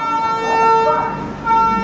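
Horn of the 12027 Chennai–Bengaluru Shatabdi Express sounding before departure at Jolarpettai Junction, a loud, sustained tonal blast that swells, dips and rises again over about two seconds.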